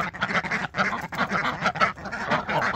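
A pet guard goose honks repeatedly while being fed in a backyard, giving loud, close, rhythmic honks in quick succession that continue throughout.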